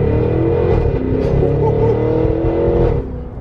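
A 2023 Cadillac Escalade V, a 680-horsepower family SUV, accelerates from close by with a loud, deep exhaust roar that holds steady for about three seconds before easing off.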